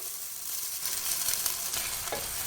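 Cooked rice is stirred in a hot pan for egg fried rice, with a steady close sizzle of frying and soft scraping from the spoon throughout, no voices.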